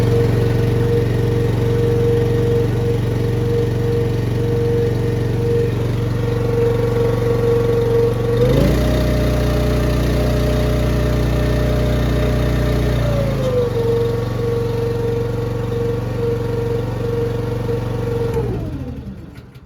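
A carbureted Honda GX390 engine runs steadily and loudly up close, with a sustained drone that rises in pitch for a few seconds, then settles back before cutting off near the end.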